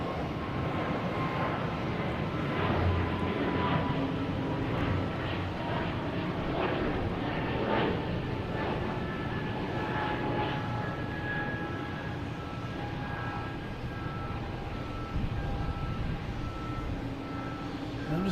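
A Delta Airbus A220 jet takes off at Boston Logan Airport, its engines giving a steady loud roar and whine that holds throughout, heard from an outdoor plane-spotting position among other aircraft.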